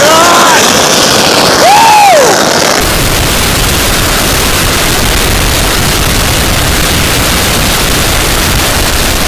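A 16,000-shot roll of Special Firecrackers goes off as one loud, continuous crackling barrage that keeps going without a break, after a short whistling firework at the start.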